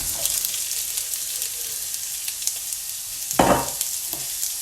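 Onions dropped into hot oil for a Chinese takeaway-style beef curry, giving a loud, bright continuous sizzle with one brief thump and stir near the end; no talking.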